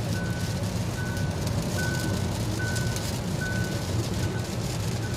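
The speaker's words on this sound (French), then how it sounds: "il y a pas mal de rappels sonores" A 2025 Hyundai Inster electric car gives warning chimes at highway speed, a regular series of short beeps about once per second over loud, steady road and wind noise inside the cabin, with no talk.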